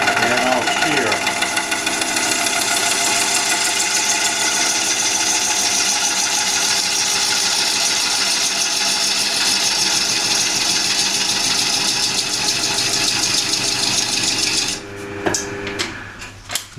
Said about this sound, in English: So I'll turn it on again and I'll shear it.